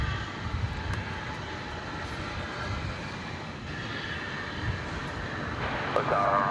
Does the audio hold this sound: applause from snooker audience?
no